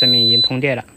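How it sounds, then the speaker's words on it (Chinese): A buzzer on a repaired switching power supply board gives a steady, high electronic beep that sounds once power is applied, close and clear under a man's speech. "这是听到已经有蜂鸣器的声音了"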